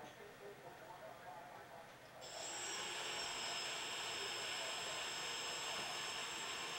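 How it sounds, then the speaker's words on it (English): Multirotor drone motors on an EMAX 25A 4-in-1 ESC spin up after a throttle calibration attempt, going from a low hum to a sustained, even high-pitched whine that holds steady and close. "But hey, I got the motors running again."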